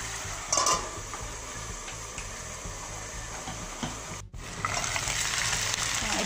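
Chicken pieces fry in a pan with a steady loud sizzle while a spoon stirs them, scraping and clinking near the pan, with a brief dropout before the frying resumes louder.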